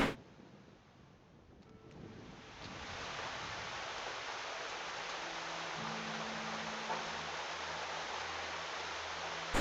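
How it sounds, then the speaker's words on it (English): Heavy rain pours against windows during a late-night thunderstorm, a dense steady hiss that rises after a brief quiet start and holds close and even, with faint low hums underneath. "you can hear the rain pouring down on my windows as well"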